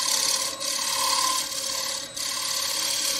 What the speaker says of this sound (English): A little shear scrape just to break that edge.